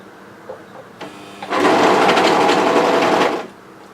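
An overlocker stitches a hoodie seam, a fast close whirring chatter lasting about two seconds after a few faint handling taps, with no talk.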